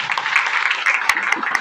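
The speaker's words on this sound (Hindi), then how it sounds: "मैं पुनः एक बार मिस्टर अनिल यादव सर के लिए जोरदार ताली चाहूंगा।" Audience applause for a speaker at a business success seminar, a steady mass of clapping with a few louder claps rising out of it, and some talk mixed in underneath.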